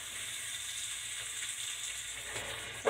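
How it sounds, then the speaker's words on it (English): Onions cooking fast in a very hot pan with a little leftover oil, producing a soft, even hiss of frying that stays steady and fairly faint throughout, without any voices. "The onions are going to get cooked fast because it was hot."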